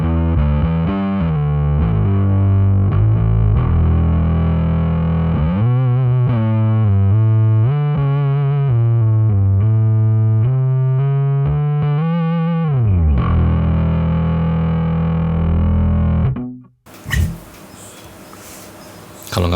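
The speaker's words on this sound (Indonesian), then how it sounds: "Lalu drive-nya ini double, ada dikasih distortion yang kelihatannya sih sama juga" An electric guitar runs through a Headrush effects unit with doubled drive and distortion, giving loud, thick, saturated chords and sustained riffing that cut off abruptly into a brief burst of harsh noise.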